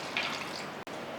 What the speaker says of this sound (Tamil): தயிர் சும்மா அப்படியே ஒரு கரண்டி போட்டு கூடவே தண்ணியை ஊற்றுறோம், கலக்குறோம்.